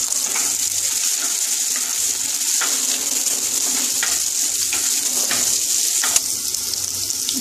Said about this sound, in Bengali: পেঁয়াজটা দিয়ে দিলাম আর লঙ্কাগুলো দিলাম দুটো শুকনো লঙ্কা আর দুটো কাঁচা লঙ্কা